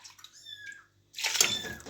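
Water is poured into a cooking pot while making young borscht with cherries, a steady splashing rush that starts about halfway through, after a brief higher tonal sound over a quiet room.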